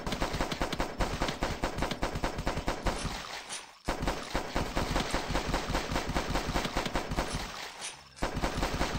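Rapid, continuous gunfire from a weak pistol in The Last Stand, a zombie survival video game, rattles loud and close for most of the stretch, broken by two brief pauses, with no talking.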